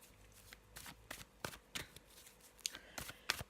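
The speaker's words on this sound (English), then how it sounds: "I'm just going to be having a little shuffle now and putting down a few cards" Tarot cards from a Faulkner deck are riffled and shuffled in a series of quick, crisp bursts, close and fairly quiet, with short pauses between each flurry.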